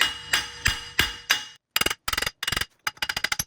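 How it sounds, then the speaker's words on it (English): Sharp metal hammer blows on the wheel hub of a 2009 Lincoln MKS: a few slow, heavy strikes, then quick bursts of rapid ringing hits after a short pause. "Do I need a bigger hammer?"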